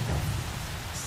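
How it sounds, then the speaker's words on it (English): Steady rain hiss falls in the Horizon Zero Dawn video game, an even broadband wash with a low rumble underneath, continuous and fairly loud for the whole moment with no voice. "Is the rain random, or does it happen at specific moments in the game?"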